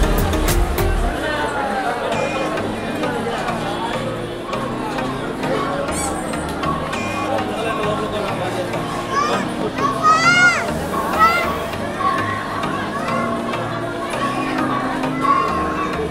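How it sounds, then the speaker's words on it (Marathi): A dense crowd of pilgrims at Tirupati temple near the hair-offering area makes a loud, continuous hubbub of overlapping chatter and children's shouts that fills the whole scene. "गर्दी बघू शकता तुम्ही, गर्दी किती आहे"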